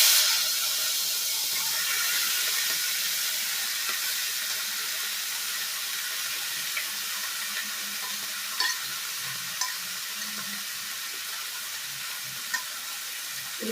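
Fish paste cooking in hot ghee, a steady dense sizzle and hiss from the pan with occasional small pops and stirring scrapes, continuous and fairly close, with no talking.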